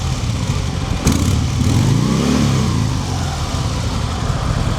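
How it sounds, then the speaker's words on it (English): A 2023 Harley-Davidson Sport Glide with the 107 engine running nearby, a steady low idle with a sharp click early on and a brief swell in revs before settling back. "What a nice sounding bike."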